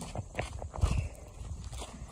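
Horses clip-clop on the floor of a barn, a close, uneven series of hoof knocks with a heavier thump, under faint background noise.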